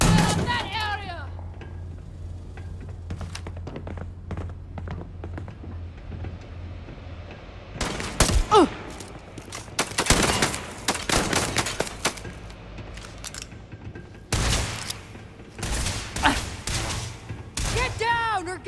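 Gunfire in the Starfield video game on Xbox Series S comes in loud, sharp bursts and volleys from the middle of the clip onward, after a quieter start. A low steady hum and in-game voices sit underneath.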